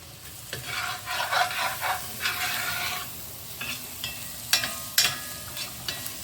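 Hot dogs browning in a pan for spaghetti, a steady close sizzle broken by scraping stirs and a few sharp clinks of a utensil against the pan, with no talking.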